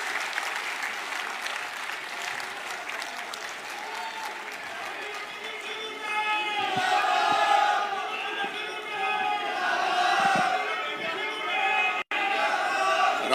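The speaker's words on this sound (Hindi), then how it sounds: "हुड्डा साहब का तालियां बजा के स्वागत करो" A large crowd at a Haryana panchayat gathering in Faridabad claps and cheers to welcome former chief minister Bhupinder Singh Hooda, sustained dense applause swelling louder midway with shouts and slogans mixed in.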